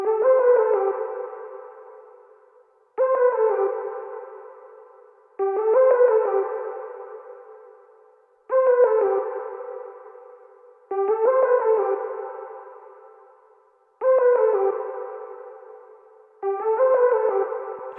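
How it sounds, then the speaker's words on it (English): Synth lead patch called Her Fave Synth Lead from the Kavi's Sonic Mastery bank in Analog Lab, playing a repeating melodic phrase in regular bursts of bright, echoing notes that fade between phrases, with no talking. "Kavi's Sonic Mastery, Analog Lab Band. It's called Her Fave Synth Lead."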